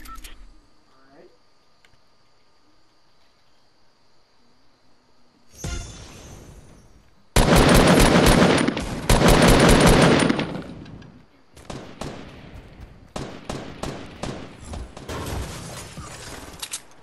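Gunfire in a video game shootout: after a quiet stretch, loud sustained bursts of automatic fire erupt, followed by choppier rapid volleys and scattered shots.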